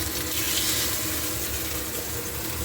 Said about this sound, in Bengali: হ্যাঁ, এখানে আমি তুলে নিচ্ছি মাছগুলোকে ভেজে ভেজে।